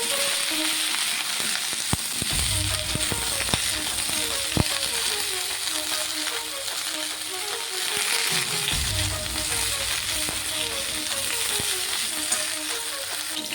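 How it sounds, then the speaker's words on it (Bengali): Cauliflower frying in hot oil with a little turmeric, a steady loud sizzle and crackle with short gaps where pieces are added or turned, then the bubbling picks up again. "এই তেলের মধ্যে ফুলকপিটাকেও ভেজে দেব"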